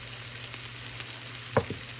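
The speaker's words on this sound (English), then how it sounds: "Melting that butter." Butter melting for a roux for scalloped potatoes sizzles and fries steadily in a pan, a constant close hiss broken by a couple of brief knocks near the end.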